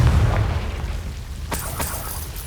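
A Confringo fire spell in Hogwarts Legacy goes off as a deep, loud boom at the start, then rumbles down. A second sharp blast with crackling bursts follows about halfway through.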